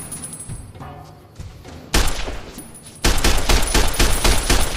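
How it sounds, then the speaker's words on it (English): Service rifle fire in Fallout New Vegas, loud sharp shots that ring out in rapid succession, with a quieter gap before a denser closing flurry of gunfire. "Let's test out the service rifle."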